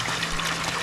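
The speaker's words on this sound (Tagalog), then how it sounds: "Oh, lakas ng tubig" Strong water flowing in a steady rush, loud and close, a brief continuous gush with no voices.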